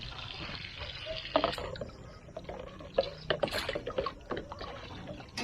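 A running stream splashes and gurgles nearby in an uneven, trickling flow, with irregular louder sloshes over a steady outdoor background.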